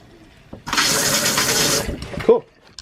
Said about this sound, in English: That's just water, or air, I should say, in the lines.